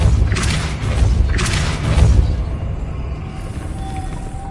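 Depulso force spell hitting in the Hogwarts Legacy video game, with two heavy booming thuds about a second apart followed by a softer lingering rumble, loud and close.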